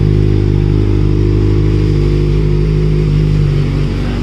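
A Kawasaki ZX-6R motorcycle engine revs hard, loud and close. It holds a high, steady whine and eases off slightly near the end.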